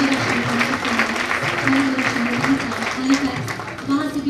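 Audience applause at a women's day awards ceremony in Bradford, Yorkshire, a steady wash of clapping from a packed hall that runs the whole time, while a voice hums and speaks faintly underneath.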